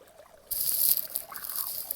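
Water rushes into a bed through an opened valve in a watering system, a sudden onset of steady hissing flow that continues with slight fluctuations, nearby and moderately loud.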